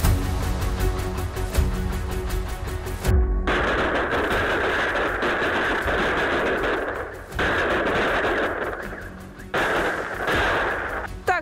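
Fireworks and salutes set off for a Christmas celebration in Novosibirsk burst in a rapid crackling volley, then become a dense, loud roar of overlapping bangs with brief dips, heard close and without talk.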